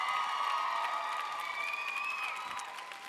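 A conference audience at the Aveda Congress 2015 cheering, whooping and clapping, a dense steady crowd roar that fades slightly toward the end.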